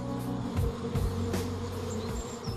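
Honey bees buzz steadily up close, a dense droning hum with individual bees passing near.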